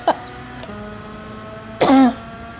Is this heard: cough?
yes